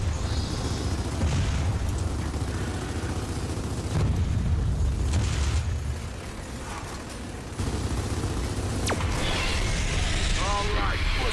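Heavy combat from the Gears of War 4 video game while players shoot at a boss's core: a continuous dense roar of booms and rapid fire runs throughout, briefly dropping in intensity near the middle before surging back.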